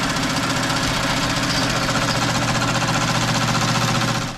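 An embroidery machine tacking down 3D puff foam on a hat, running as a fast, steady mechanical chatter and hum with a rhythmic knocking pulse throughout, loud and close, until it winds down at the end.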